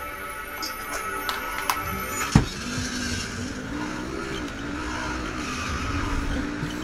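Race car driving in the Jak 3 video game: a steady engine drone with pitch that rises and falls, tire skids, and one sharp impact-like crack partway through.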